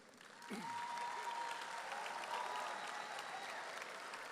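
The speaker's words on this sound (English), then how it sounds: "join me in inviting these students with a large round of applause" A large crowd at a high school graduation ceremony breaks into steady applause that swells quickly and holds, faint and distant-sounding, with a voice briefly heard near the start.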